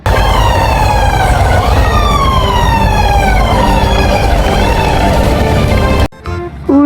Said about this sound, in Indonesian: ternyata ini ada mobil pemadam kebakaran